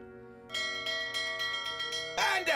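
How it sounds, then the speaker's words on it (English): A bell in the adventure game The Whispered World rings with sustained, clear metallic tones, starting after a brief quiet moment and building to a brighter, louder strike near the end. "Are you ringing the bell again?"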